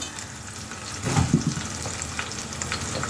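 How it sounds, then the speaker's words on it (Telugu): Green chili pieces sizzle as they fry in a pan with already-browned onions, a steady crackle with a brief louder burst of stirring near the start; no talking. "ఇప్పుడు పచ్చిమిరపకాయ ముక్కలు వేస్తున్నాను"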